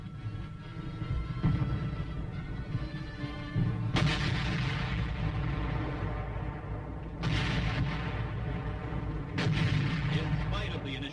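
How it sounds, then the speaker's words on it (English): Artillery fire in the Korean War, heavy howitzer booms against emplaced hill positions, rumbling continuously with sharper blasts every few seconds over a dense low roar of battle. "artillery fire is called for to loosen enemy supporting areas"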